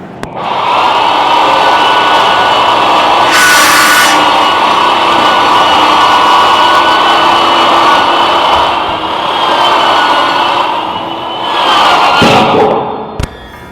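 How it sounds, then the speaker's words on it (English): A special saw cuts steel wall panels for a tiny home on a factory line, a loud sustained grinding, cutting roar that rises and falls over about twelve seconds, with a sharp squeal near the end. "That's a special saw that cuts that."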